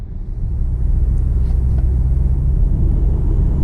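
A 2022 Audi Q5 45 Premium Plus Sportback drives along, a steady low cabin rumble of engine and road noise filling the car without pause and with no talk.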